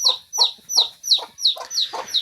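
Native desi chickens on a farm in winter cluck in a steady, rhythmic series of about seven sharp, close calls, evenly spaced and loud, with no voices over them.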